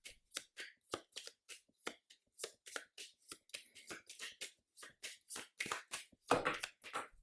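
A deck of cards is riffled, shuffled and cut during a tabletop board game, producing a steady run of quick crisp flutters and slaps close by, with no voices.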